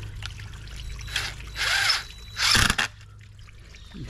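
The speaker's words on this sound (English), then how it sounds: "Hopefully we'll stop the water from flowing here in just a second." Water trickles and splashes from a pool filter during a gasket replacement, coming in short bursts of flow with quiet pauses between them.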